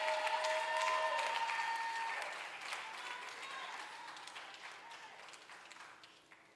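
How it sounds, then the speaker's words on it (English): An audience at a primary school graduation ceremony applauds as a speaker comes to the stage, broad clapping from a crowd that is strongest at first and gradually thins and fades, heard from some distance in a large room. "A round of applause as he comes to the stage."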